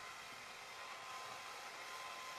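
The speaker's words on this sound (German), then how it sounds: "dein Föhn ist zu laut, deswegen kannst du mich nicht verstehen." A hair dryer runs loudly and steadily, its even airy whine and rushing hiss holding without a break and with no voices.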